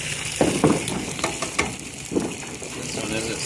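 Buns and sausages sizzle on an outdoor grill at a Fourth of July gathering in Las Vegas, a steady frying hiss under a few scraping, clattering flips of the buns.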